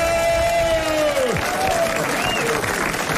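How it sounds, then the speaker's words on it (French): A studio audience at a French TV show applauds and cheers in a steady, dense roar, with a voice speaking over the clapping. "vous pouvez applaudir 10 minutes encore"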